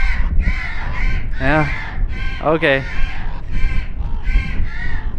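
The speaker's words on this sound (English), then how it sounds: "There's birds in there and they freaked out the moment I came in" Startled birds caw repeatedly inside an abandoned building in the Utah desert, loud, close, harsh calls in quick succession with rustling around them, while a person briefly speaks.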